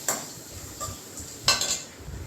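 Grated fresh coconut being stirred in a pan with a metal spoon, a few sharp clinks and scrapes against the metal, close and clear, over a faint background hum.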